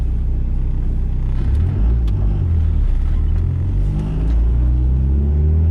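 A tuned car running straight E85 fuel, its engine rumbling and revving loudly and steadily up close during a pull, with no talk.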